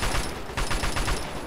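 Rapid, loud bursts of missile and weapon fire in Fallout 3's Operation Anchorage, a dense crackling barrage with little pause, close and harsh.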